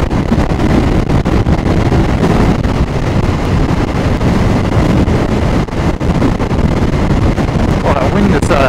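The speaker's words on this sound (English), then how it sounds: "Well, that wind has certainly picked up though." Strong wind roars over the microphone while a motorcycle rides through countryside and town, a loud, dense, continuous rush with a speaking voice partly audible beneath it.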